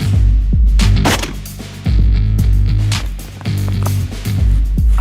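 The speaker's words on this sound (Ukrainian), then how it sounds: "Зараз стріляю в мішок." Captured armor-piercing 5.45 mm rifle rounds fired into a sandbag during a test of cover, several loud, sharp reports at uneven intervals, each with a short trailing ring and thud.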